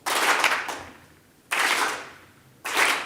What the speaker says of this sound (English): Just once, just clap once